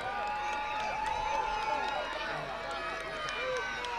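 Youth football crowd at an AYF Medway Colts vs. Norton Black Knights game, a steady roar of cheering and shouting voices with whistles and yells layered over continuous crowd noise, voices loud and close throughout.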